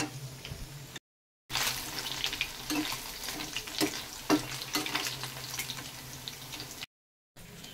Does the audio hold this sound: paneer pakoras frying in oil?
yes